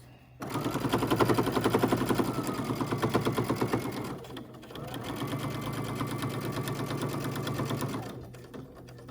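A sewing machine stitches a fabric face mask in two sustained runs of rapid, even needle clatter, the first about four seconds and the second a little shorter, separated by a brief pause. The machine is close and loud.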